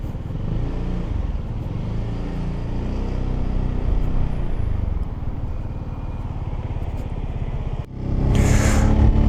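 A Zontes ADV 368 G adventure scooter being ridden on an open road, its engine droning steadily and rising slightly as it gets underway, mixed with wind rush and a sharp gust of noise near the end.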